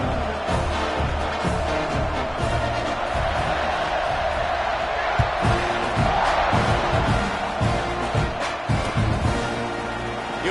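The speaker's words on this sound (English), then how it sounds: "this crowd is buzzing after that last score" A football stadium crowd at a college game keeps up a dense, loud roar and buzz after a score, with scattered cheers and claps mixed through the steady noise.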